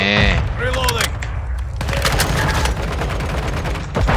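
Rapid bursts of gunfire in Call of Duty: Modern Warfare II multiplayer, dense and continuous with booming low end, mixed with game sound effects and a voice talking over it.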